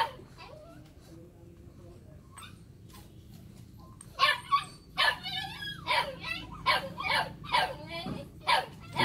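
A Phu Quoc puppy at a dog kennel whimpers softly at first, then lets out a series of sharp, close yips and barks in a rapid run.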